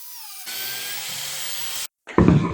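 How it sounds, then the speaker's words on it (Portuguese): A biscuit joiner lowered slowly into a wooden coffee-table part cuts a slot, giving a steady high-pitched whine for over a second, then a brief gap and a louder, rougher burst as the blade bites into the wood. "travo aqui o aparelho e vou baixando devagar para poder fazer o furo, poder fazer a fresa"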